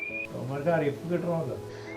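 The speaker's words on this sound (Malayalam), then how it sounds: "ചൂളം പിളിച്ച് മീനെ മീനെ കൊണ്ടുവരാണ് അല്ലേ" A person whistles beside a pond to call the fish, a clear steady tone at the start and end framing a warbling voice-like passage in between, close and moderately loud.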